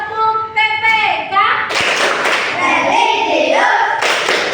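A classroom of pupils performing a rhythmic chanted clap routine, sharp claps and thuds in patterned bursts mixed with a loud voice leading the chant.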